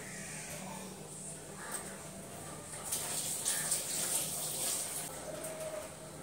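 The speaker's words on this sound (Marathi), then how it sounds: "ते आता पॉकेट धुवून घेते" A milk pouch rinsed under a running kitchen tap, giving a steady stream of water splashing and gushing at close range with slight variations as the pouch is turned.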